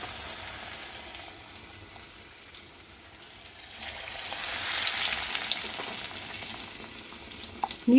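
Raw banana bajji, green plantain slices in batter, frying in hot oil: a soft, steady background sizzle swells into a louder, bubbling crackle midway and stays up near the end.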